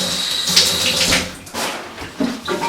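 Tap water pours onto henna hair dye paste worked into long, fine hair. A close, steady rush and splash shifts in strength as the flow is moved around, with no talk.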